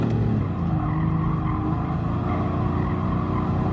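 An older Ferrari racing in Gran Turismo Sport, its engine droning loud and steady under heavy braking while the tyres scrub and squeal, with no talk over it.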